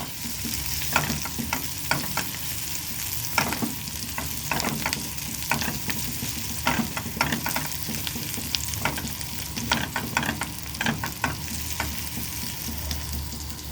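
Onion, tomato, hot red pepper and yellow pepper frying in oil in a pan, a steady close sizzle with frequent scraping stirs and clinks throughout.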